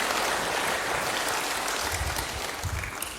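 A church congregation applauds during a sermon, producing a thick, continuous rush of many hands clapping at moderate loudness that slowly tapers toward the end.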